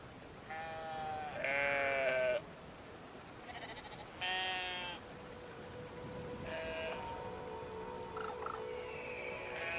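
Sheep in the video game Brothers: A Tale of Two Sons give a series of faint, drawn-out, quavering bleats, with a few softer calls and game ambience trailing after.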